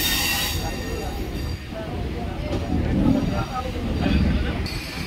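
The Dhauli Express passenger train rumbles past on the line between Puri and Sakhi Gopal, a continuous heavy rolling clatter of wheels and carriages with some metallic squeal, close and loud, while a voice talks over it.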